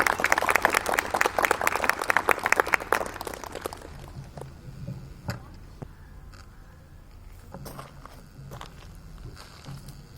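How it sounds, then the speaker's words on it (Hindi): A crowd at a school Republic Day event claps loudly at first, then the applause thins out into scattered shuffling, footsteps and movement as people settle. "जोरदार तालियों से फादर जी का स्वागत कीजिए।"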